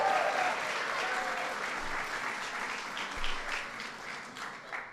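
Sustained applause from an audience at an LGBT Pride Month reception, a dense wash of many hands clapping that holds steady and slowly thins toward the end, with no speech over it.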